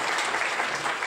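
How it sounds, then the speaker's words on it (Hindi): Loud, dense applause from a seated audience at a Suheldev Bharatiya Samaj Party meeting, continuous steady clapping filling the whole moment with no pauses. "खड़ा हो जाइए, जोरदार ताली बजा के इनका स्वागत करिए।"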